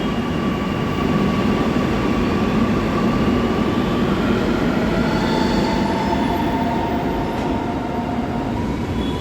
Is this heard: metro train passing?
yes